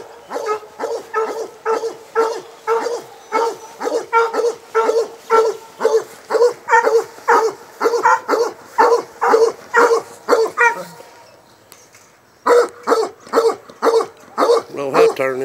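Coonhunting hound dogs bark in a steady, rapid series of loud, close barks for about eleven seconds, pause briefly, then resume barking; faint voices are mixed in.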